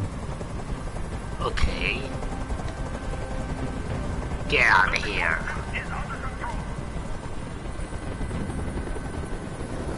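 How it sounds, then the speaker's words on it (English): A helicopter flies overhead in the video game Detroit Become Human, a constant loud rotor drone throughout, with a voice speaking briefly over it. "Tell that helicopter to get out of here!"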